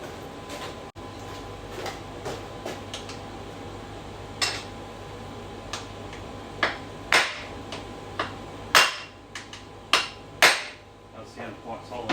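Hammer blows knocking on a Yamaha YZF1000 Thunderace swing arm part in a workshop: scattered sharp metallic taps that grow into a run of louder, ringing strikes, heard alone without talk.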